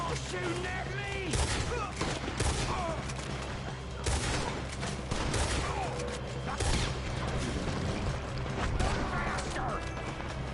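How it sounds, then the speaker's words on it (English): Rapid volleys of gunfire from a Red Dead Redemption 2 shootout, with repeated sharp bursts and scattered single shots layered over clicking mechanical sounds and game voices in the background. "Why are they all shooting at me?"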